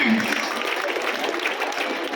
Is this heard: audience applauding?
yes